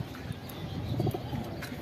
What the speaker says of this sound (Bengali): এই যে প্রথমেই দেখাই আমাদের এই কবুতরটা।